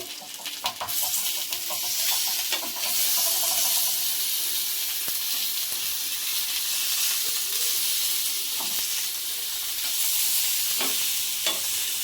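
Fish wrapped in banana leaf fries in a covered pan, giving a continuous soft sizzle with faint crackles and occasional light clicks and knocks. The sound stays close and steady throughout, and no one speaks.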